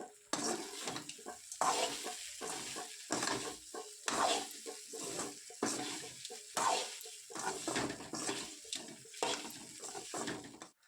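Crumbled idli being stirred with onions in a pan for idli upma, a spatula scraping in steady repeated strokes over a soft sizzle, fairly close, no talking.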